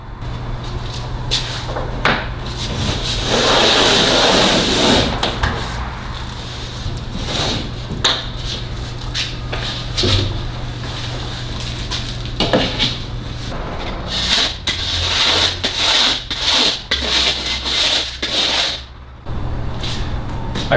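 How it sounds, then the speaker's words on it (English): A hand drywall planer shaves excess gypsum off the edge of a drywall sheet, giving a steady scraping rasp with repeated strokes and short pauses, close and fairly loud throughout. "just gonna use my planer here and shave off that excess."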